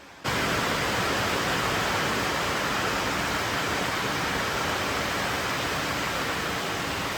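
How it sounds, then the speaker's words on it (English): Steady, dense hiss of heavy rain outside a workshop begins suddenly and continues unbroken and loud throughout. "It's raining outside in the shop."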